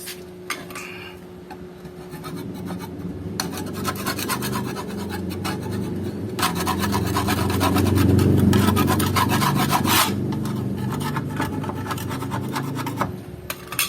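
Steady rasping scrape of a tool stripping tough, adhesive rubberized undercoat from the underside of a Honda Civic EG, close and continuous with rhythmic strokes swelling louder midway.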